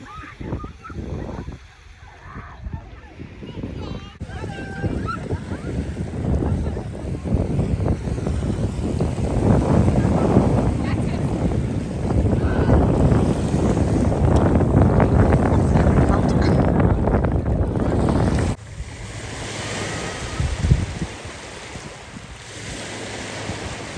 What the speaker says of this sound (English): So the tide's come right in now